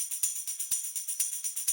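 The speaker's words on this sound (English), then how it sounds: "The last drum element that we have in the first half is this tambourine loop." A tambourine loop shakes out a quick, steady pattern of bright jingles with slightly stronger accents on the beat, thin and airy with no low end, playing alone at a modest level.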